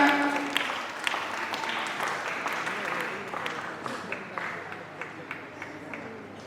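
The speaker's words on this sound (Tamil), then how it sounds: "எல்லாரும் ஜோரா கைதட்டுங்க, கைதட்டுங்க, ஜோரா கைதட்டுங்க" Audience applause at a Sunday school rally in Kanyakumari, a steady spread of many hands clapping that holds throughout, with a few sharper individual claps standing out and faint crowd murmur beneath.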